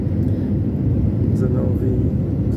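Airplane descending on approach to land in the Azores, a steady loud low cabin rumble of engines and airflow holding throughout, with no voices.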